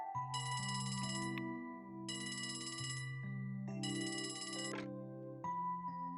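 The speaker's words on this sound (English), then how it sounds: "A phone call?" A phone rings inside the video game Trails from Zero, giving three steady bursts of bright electronic trilling at a regular rhythm, each about a second and a half long, over continuous background music. Nobody speaks.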